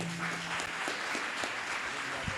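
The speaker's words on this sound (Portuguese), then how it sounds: "Aplaude o Senhor Jesus." A church congregation claps together, a dense steady patter of hands filling the room at a moderate level, with a few sharper individual claps standing out.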